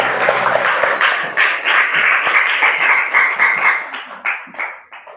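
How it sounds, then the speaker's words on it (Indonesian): A classroom full of students claps together, a dense, close burst of applause with squeals and cheering voices mixed in, thinning out toward the end. "Sekali lagi tepuk tangan untuk kita semua."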